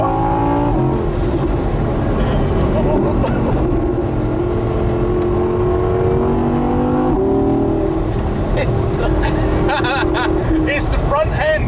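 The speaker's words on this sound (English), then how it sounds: "We've got a rear-wheel drive Audi on our roads." A 2018 Audi R8 RWS, the rear-wheel-drive version, accelerates hard on a public road, its engine rising through gears with loud revving, heard from inside or close by, while someone talks over it.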